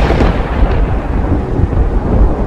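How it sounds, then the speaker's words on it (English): Heavy thunder rumbles continuously with rain, a loud deep roll filling the whole stretch without pause or speech. "Here comes the rain."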